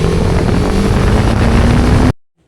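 A bomber grey TVS Apache RR 310 motorcycle overtakes a bike carrying three riders, its loud, close engine drone climbing slightly in pitch under wind rush before cutting off abruptly.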